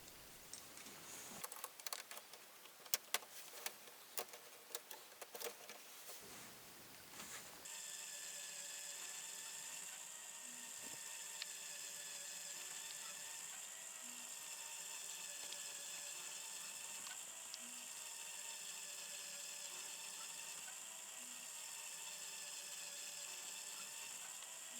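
Lego Great Ball Contraption corner gearbox turning, a steady mechanical whirr with fine ticking and clicking, preceded by a burst of sharp rattling clatter, close and continuous with no voices.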